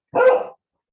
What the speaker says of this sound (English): I muted myself because my dog was barking.